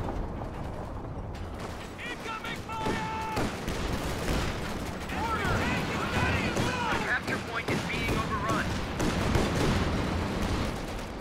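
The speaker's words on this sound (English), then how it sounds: "In comes the artillery." Artillery shells fire and burst in a competitive strategy video game match, a steady run of booms and mechanical clatter layered under continuous casting talk.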